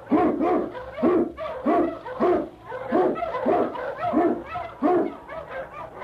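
King, an Eskimo lead dog, barks in a steady run of about eight loud, close woofs spaced roughly a second apart, an old-time radio sound effect with no talk over it.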